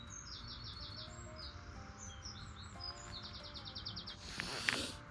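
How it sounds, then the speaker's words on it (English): Birds sing in the early morning on the South Downs Way, with repeated rapid chirping phrases at moderate distance over a quiet outdoor background. "The bird's been going off since about 5"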